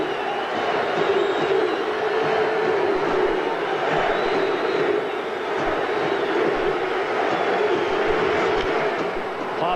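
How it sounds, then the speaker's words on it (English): Baseball crowd at the Oakland Coliseum during a 2000 playoff game, a dense continuous roar of fans chanting for Jason Giambi, steady and loud throughout with no clear individual voices. "every time Jason Giambi steps to the plate, that chant of MVP goes up from the crowd here at the Coliseum"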